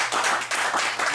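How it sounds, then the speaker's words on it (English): An audience gives a round of applause, a dense, loud wash of clapping hands filling the whole moment without pause. "let's give Alex a round of applause"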